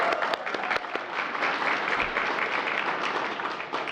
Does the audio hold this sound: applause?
yes